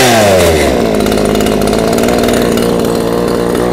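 An ECHO CS-3510 chainsaw runs loud and close, its engine revving down from a high whine at the start and then settling into a steady, continuous buzz with no voices over it.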